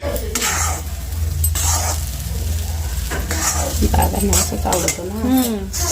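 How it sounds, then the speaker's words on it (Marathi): Semolina roasted in ghee in a kadhai is stirred as hot water goes in, producing a loud sizzling hiss with repeated spoon scrapes and clinks against the metal, and a voice breaks in briefly near the end. "कढईमध्ये रवा भाजला तिने आणि त्यामध्ये गरम पाणी टाकलं"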